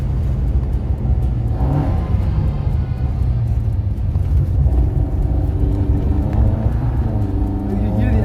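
A classic Alfa Romeo Giulia Super's twin cam engine revs from inside the car, rising and falling through the gears with a raspy, steady drone while a person talks over it.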